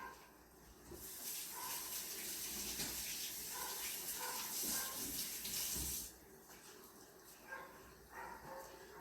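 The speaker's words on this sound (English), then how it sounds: "Let me go wash my hands." Water runs steadily from a tap as hands are washed in a home kitchen, a continuous close hiss lasting several seconds before cutting off, with a dog barking in the background.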